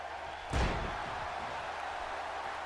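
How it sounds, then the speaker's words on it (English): A wrestling slam in the WWE 2K18 video game, a double axe handle knocking a wrestler to the mat, heard as a single sharp, heavy impact that rings out briefly over a steady hum of crowd noise. "a double axe handle knocks down Neihart."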